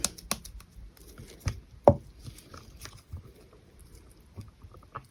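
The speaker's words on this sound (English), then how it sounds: "I am trying to mix it into a large amount of resin." Gold mica powder is stirred into a large batch of resin in a cup, making faint, irregular scrapes and soft knocks of the stir stick against the container, close by and quiet with pauses between strokes, no voices.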